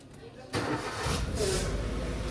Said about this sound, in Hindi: तो चलो एक बार स्टार्ट ही करके दिखा देता हूँ आपको।